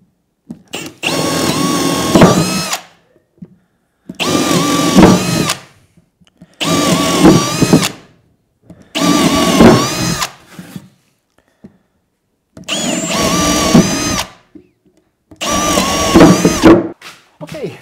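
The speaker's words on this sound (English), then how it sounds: "So I'm gonna get busy drilling." Power drill boring 10 mm holes in plywood for a downdraft sanding table, six loud sustained bursts of a few seconds each separated by short pauses, close and steady.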